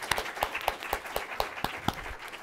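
A small audience at a talk on the transition away from coal applauds the speakers: a sparse, steady run of individual claps at a regular beat, fairly close and moderately loud, over a faint crowd murmur.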